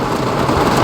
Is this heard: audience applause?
no